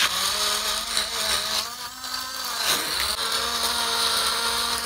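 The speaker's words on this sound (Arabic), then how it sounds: "الخلاط ده جامد قوي قوي" A blender runs hard and close for the whole stretch, a loud steady whirring roar with a high motor whine that dips briefly partway through.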